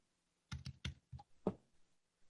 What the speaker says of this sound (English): Let me just type it in manually here.